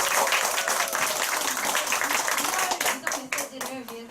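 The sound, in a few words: audience applause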